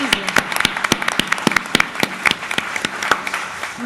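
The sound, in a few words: audience applause at an executive forum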